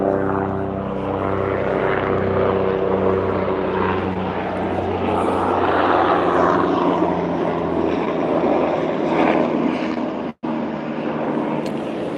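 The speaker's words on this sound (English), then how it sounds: "Pretty sure that's either a sheriff helicopter or a life flight." A sheriff or life-flight helicopter passes overhead, its loud, steady rotor and engine drone filling the whole stretch with barely any change, apart from a momentary dropout near the end.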